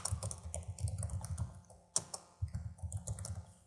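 Rapid, close clatter of fingers typing on a computer keyboard, with rhythmic key clicks in quick bursts and a sharper keystroke near the middle.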